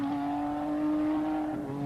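A 1986 Lola THL2 Formula One car with a Ford turbo engine on a wet Donington Park circuit in winter, its engine howling loud and close at a high steady pitch as the wheels spin on the slick surface.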